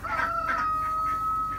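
A rooster crows nearby, a drawn-out call over a steady background tone, fairly quiet.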